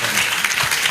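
An audience bursts into brief, dense applause at a political talk, with the clapping close, steady and filling the whole moment.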